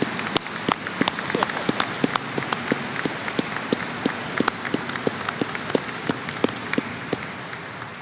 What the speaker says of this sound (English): can I get a round of applause for our public affairs who put together that amazing?